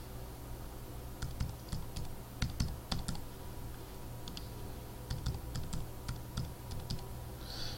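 Computer keyboard typing while entering login details during a Joomla template setup: two bursts of quick, light key clicks at moderate distance, separated by a pause, over a low steady room hum.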